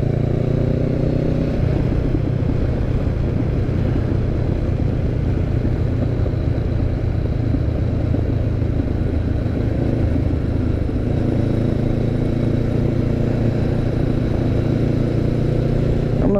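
Honda CB500X motorcycle engine spinning past 6,000 RPM, a loud steady buzzing drone with wind rush, the pitch dipping and climbing through gear changes over sixteen seconds.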